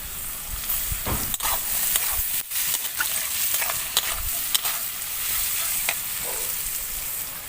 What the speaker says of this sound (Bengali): পেঁয়াজটা হালকা একটু এখানে ভেজে নিয়েছি, এরপরে দিয়ে দেব কুচিয়ে রাখা আলু